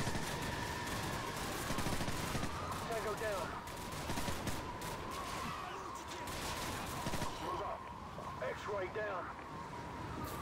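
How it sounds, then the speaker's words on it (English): A Modern Warfare firefight with dense, continuous automatic gunfire and rapid bursts of shots crackles nonstop, loud and close, with a steady droning rumble underneath and voices talking over the shooting. "why are you shooting at my back of my head?"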